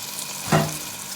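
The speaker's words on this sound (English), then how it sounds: "And then I'm going to add a can of diced tomatoes" Canned diced tomatoes and mushrooms hit a hot pan for homemade spaghetti sauce, a brief close burst of splashing sizzle that rises over a constant frying hiss and then settles back.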